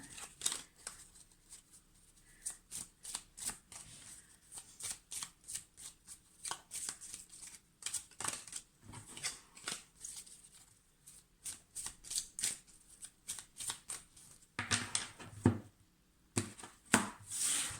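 Small oracle cards are shuffled by hand in quick, crisp riffling bursts with brief pauses between runs, close and fairly loud, with no voices.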